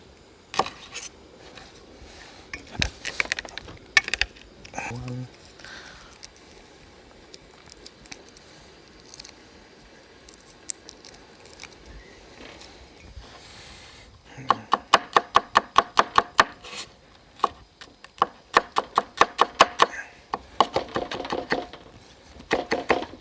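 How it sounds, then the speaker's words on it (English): A knife chops kale and garlic on a cutting board: scattered single knocks at first, then a quick, steady run of close, crisp taps in the second half. "Alright, just give them a little choppy chop."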